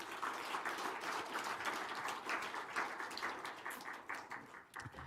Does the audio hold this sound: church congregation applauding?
yes